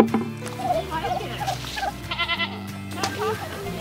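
Several goats bleat repeatedly and loudly nearby in a desert garden, their wavering cries overlapping while people talk over them.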